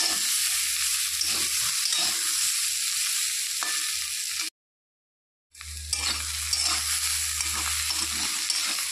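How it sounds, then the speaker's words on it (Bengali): Bitter gourd and pumpkin frying in a pan are stirred with a spatula, producing close scraping and a steady sizzle that cuts out briefly for a second before resuming. "ঢাকনা খুলে নেড়ে চেড়ে দিচ্ছি। এখন আর ঢাকবো না, ফুটে একটু নেড়ে চেড়ে নামিয়ে নেব।"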